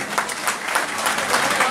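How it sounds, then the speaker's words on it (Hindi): Audience applause at a worker union meeting, dense, close clapping from a crowd that fills the whole short stretch without a break. "भरपूर तालियों की गूंज में"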